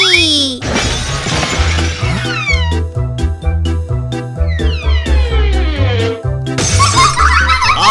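Glass shattering in a cartoon ball game, heard as repeated bright crashing and tinkling bursts over a bouncy rhythmic music track with sliding cartoon effects, loud and busy.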